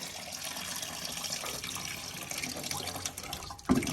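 Water draining from the transmission of a Ford 8N tractor, a steady trickling pour that runs continuously at moderate level, with a brief clunk near the end.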